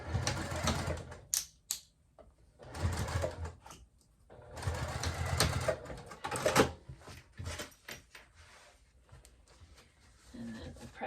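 A sewing machine stitches upcycled denim jeans in bursts of rapid, whirring needle chatter, separated by short pauses and a few clicks, close and fairly clear.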